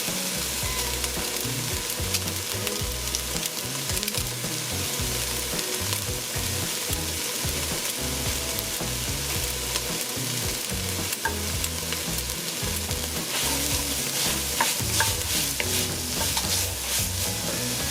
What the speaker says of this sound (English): now I'll add some of this garlic that I chopped up.